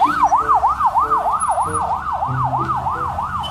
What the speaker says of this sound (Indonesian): Ada mobil emergency ambulan.